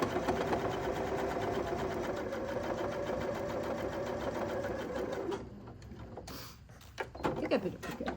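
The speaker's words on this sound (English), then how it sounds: "So I'm sewing right on the line that I drew." A sewing machine stitches along a drawn line with a steady, close mechanical whir for about five seconds, then stops, leaving quieter handling noises.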